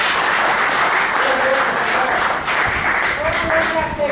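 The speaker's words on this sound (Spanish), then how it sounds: "¿Cuántos pueden dar un aplauso fuerte a Jesús?" Church congregation applauding loudly together, a dense steady wash of clapping lasting several seconds with some voices mixed in.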